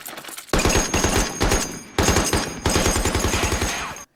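Gunfire sound effect for a Zeon soldier figure: loud, rapid machine-gun bursts in three long volleys with rhythmic repeating shots, dense and close, cut by brief gaps and ending abruptly.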